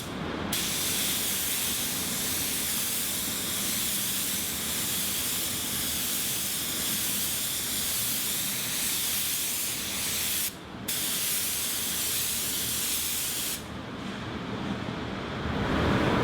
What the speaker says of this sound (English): my plan is to spray to a wider area first with a blending coat